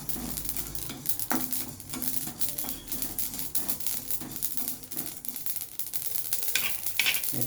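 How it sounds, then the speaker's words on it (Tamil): Cloves roast in hot oil alongside spluttering mustard seeds, producing a dense, steady crackle and sizzle with sharp popping bursts throughout, close and fairly loud with no talk. "கிராம்பு ஒரு 10-15 கிராம்பு போட்டு நல்லா வறுத்துக்கணும்"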